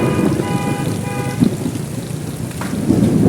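Heavy rain and hail pouring down in Dhaka city, a loud, dense, continuous roar of drops close by, with a brief tonal horn-like note early on and no speech.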